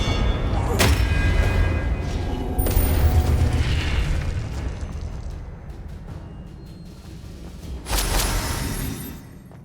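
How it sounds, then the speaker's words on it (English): Casting Expelliarmus in the video game Hogwarts Legacy brings heavy booming bursts, a sharp crack near the start, rumbling impacts through the middle and another bright blast near the end, loud and close throughout. "Expelliarmus!"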